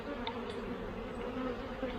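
Honey bees buzz at a hive during swarming on Réunion Island, a dense continuous drone that stays close and loud throughout with no talk.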